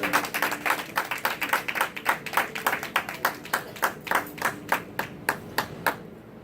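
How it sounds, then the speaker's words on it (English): A church congregation claps hands together during a Sunday morning worship service, a steady rhythmic clapping of roughly three claps per second that carries on for several seconds, then thins out and stops near the end. "Clap your hands for the Lord."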